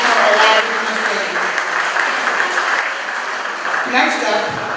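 Audience applause at a 2023 fundraiser party, a loud, dense burst of clapping from a crowd, with a voice speaking over it near the start and end.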